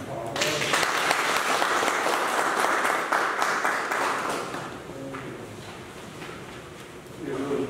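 An audience at a community forum on crane protection applauds after a presentation, a full round of clapping that gradually thins, with a voice speaking faintly near the end.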